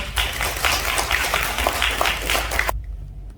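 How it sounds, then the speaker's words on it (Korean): A room of academic conference attendees claps to welcome a presentation on the classical Chinese poetry of independence activist Yang Han-muk. The dense, even applause carries on for nearly three seconds, then cuts off sharply into near silence. "박수로 발표를 청해드리겠습니다."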